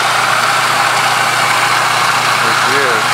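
A homemade 2x60 belt grinder built from scrap, skateboard wheels and an old motor runs at a loud, steady whirring drone with broadband belt hiss, close and continuous, with brief faint voice near the end.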